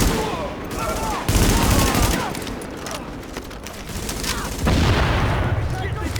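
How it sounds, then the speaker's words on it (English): A firefight in The Division video game, with dense rapid gunfire bursts and heavy booming blasts from a grenade explosion, loud and continuous, swelling at two points, with someone talking faintly over the combat. "Oh, he had a grenade, so he blew up."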